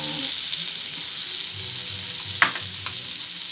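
Garlic and onion sizzle steadily in a frying pan, a continuous close hiss with a couple of brief clicks of a utensil, no voices.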